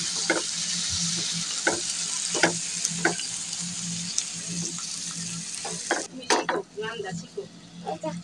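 Tomatoes fry with onion and garlic in a pan, a steady soft sizzle broken by regular scraping strokes of a stirring utensil, a few sharper clanks toward the end.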